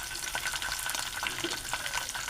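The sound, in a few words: garlic paste frying with slit green chillies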